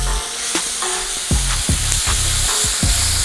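Pepper steak sizzles loudly on a Blackstone griddle, a dense close frying hiss broken by repeated scraping strokes of a spatula stirring the food, with no talking.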